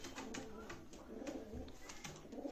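Baku pigeons at the Sabunchu bird market coo softly and faintly in a low, rolling pattern, with a voice murmuring under them.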